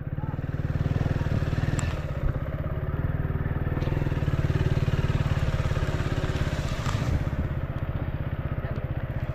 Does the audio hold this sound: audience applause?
no